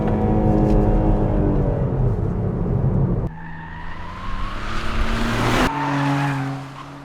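Ford Puma ST 2022 hatchback under hard acceleration, its engine revving up loudly and close, with sudden breaks as it shifts gears twice, and a hint of tire squeal over the steady roar.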